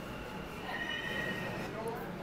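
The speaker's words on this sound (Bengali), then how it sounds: "মেট্রোটা দাঁড়িয়ে পড়লো" A Kolkata Metro train pulls into Esplanade station with a steady, close rumble and a thin, high wheel or motor whine over the platform noise. No one speaks.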